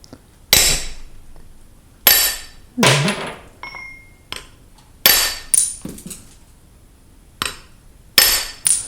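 A tungsten-tipped masonry bolster chisel is struck repeatedly with a hammer to seat it in a cut groove, giving about eight sharp, ringing metallic blows at irregular intervals, close and loud with quiet gaps between.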